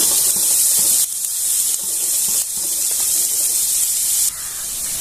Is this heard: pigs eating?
no